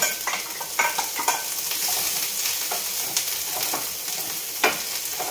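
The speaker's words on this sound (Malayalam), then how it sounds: "ഇനി അത് നല്ലതായിട്ടൊന്ന് ഫ്രൈ ആയിക്കട്ടെ" Ginger frying in hot oil for an Onam feast dish sizzles steadily up close, broken by scraping stirs and light clinks of the spoon against the pan.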